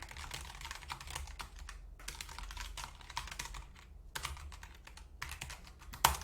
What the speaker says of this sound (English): You can type in your comments in here.